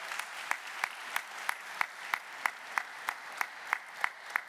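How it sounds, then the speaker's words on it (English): Sparse, slow, evenly spaced claps at a university commencement ceremony, faint and thin, like a few people clapping in unison for graduates. "Please give them a round of applause for their hard work."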